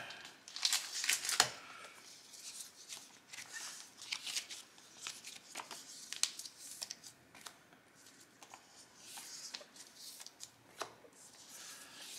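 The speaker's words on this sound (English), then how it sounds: "And I got some sleeves, so let me, before I forget, let me sleeve these up." Digimon trading cards from a Special Booster 1.5 pack being slid into plastic card sleeves, with soft crinkling, papery shuffling and light clicks that repeat steadily at close range throughout, with no talking.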